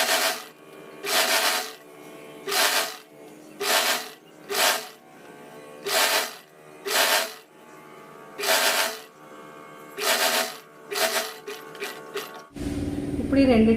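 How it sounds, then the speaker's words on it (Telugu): Sewing machine top-stitching Punjabi dress pants, running in a dozen short, regular bursts of rapid stitching, each a second or so long, ending with a brief rustle of fabric. "దీన్ని తిప్పేసుకుని ఇది కూడా పై కుట్టు వేసేసుకుందాం."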